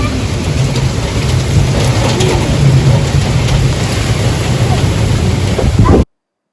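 Heavy rain pours on a garden during a thunderstorm, a loud, constant roar with low rumbling thunder beneath it, running unbroken until it cuts off abruptly near the end.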